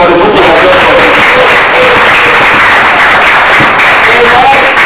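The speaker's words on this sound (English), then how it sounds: "let's clap for Jesus for the good thing of God for us" A congregation claps together at a wedding thanksgiving service, producing a dense and steady wash of applause that holds loud throughout.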